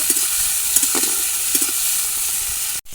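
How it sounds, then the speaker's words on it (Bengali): Tomatoes frying lightly in hot oil for a Bengali fish curry with crushed garlic, giving a steady, close sizzle and hiss with a few soft stirring knocks, no voices. "আমি টমেটোটা দিয়ে দেবো। লাল লাল করে হালকা হালকা ভেজে নেব।"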